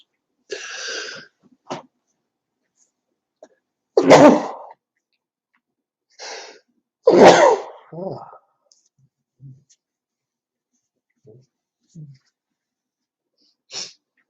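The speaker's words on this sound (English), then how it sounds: "I got to sneeze." A single loud sneeze bursts out, followed by a softer second burst and a few faint breaths and small clicks in an otherwise quiet room.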